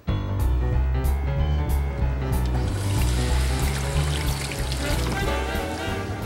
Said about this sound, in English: Then I need to add water, hot water, to both of these pans.